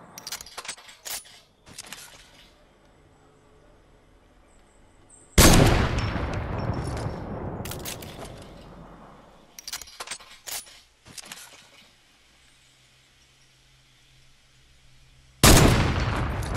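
Bursts of gunfire from Fortnite shooting into trees during a sniping match, with sharp loud cracks and rapid volleys separated by quieter stretches of scattered shots, tails ringing out after each blast.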